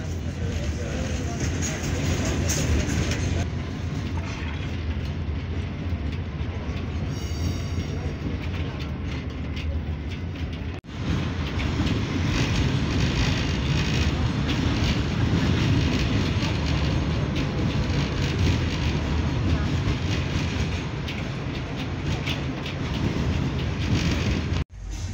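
A cheap tram ride in Odessa heading to Arkadia rumbles along the rails with steady clattering and rolling noise for the whole stretch, a brief break midway, while people talk faintly in the background.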